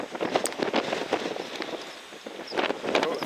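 Gusty mountain wind buffets the microphone on a Cairngorm ridge in uneven roaring bursts. Faint scuffs come through between the gusts.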